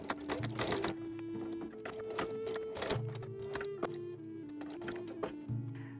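A sewing machine stitches fabric onto a kaftan, a close mechanical whir in short bursts with rhythmic ticking of the needle and brief pauses between runs.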